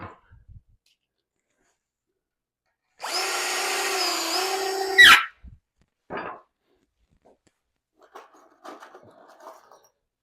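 A power drill drives a 1 5/8-inch drywall screw into wooden bench framing in one close, loud whirring run of about two seconds, followed by a few light knocks and handling noises.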